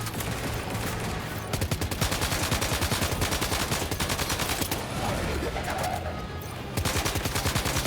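Enemy weapons firing in Death Stranding 2, heard as loud, dense automatic gunfire in rapid sustained bursts with brief pauses, close and continuous for about eight seconds.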